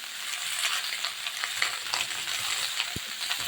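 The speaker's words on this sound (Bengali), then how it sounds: "লাউটাকে এবার আমি মাছের তেলে নেড়ে ছেড়ে" Chopped bottle gourd stir-fried in fish oil in a pan, a continuous bright sizzle with soft scraping stirs and one sharp clink of a utensil against the pan near the end, with no voices.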